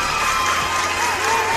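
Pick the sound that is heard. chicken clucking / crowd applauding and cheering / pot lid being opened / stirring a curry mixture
crowd applauding and cheering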